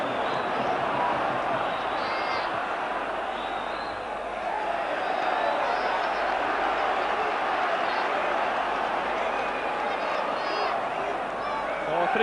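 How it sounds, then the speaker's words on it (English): A huge football stadium crowd roars steadily behind Rangers during a 1992/93 Champions League night against Olympique de Marseille, a dense, continuous wall of cheering and chanting with no pauses. "this huge crowd again getting right behind"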